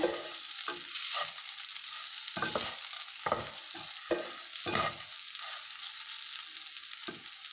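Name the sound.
mixing rinsed poha in a pan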